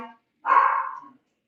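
A single clear dog bark rings out nearby in a quiet indoor space during a resin ashtray crafting session, a short sharp yap standing alone after a brief snippet of voice.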